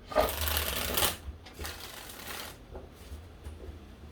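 Cards being shuffled: a fast riffling flutter followed by a few softer, shorter riffles, close and alone, no talking.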